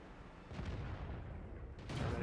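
A tank cannon fires in World of Tanks, with the player driving a Black Prince: two muffled, distant-sounding booms about a second apart over a low rumbling background. The shots are faint, and no one talks.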